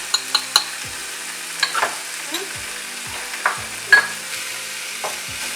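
A spoon stirs jaggery palm sugar in a pan for a sweet poli filling, giving light scraping strokes and soft taps over a steady low sizzle, close and with no voices.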